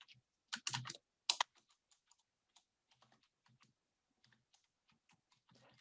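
Typing on a computer keyboard while entering math in calculation software: a few loud close clacks at first, then a scattered run of lighter, irregular key taps.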